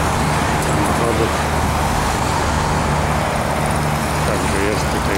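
Steady, dense roar of car traffic on a multi-lane road, a continuous wash of passing vehicles with a low engine hum underneath and no breaks.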